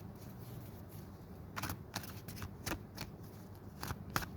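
Tarot cards being shuffled and drawn from a deck, quiet riffling bursts and soft slaps in a few irregular clusters, close and faint with no talk.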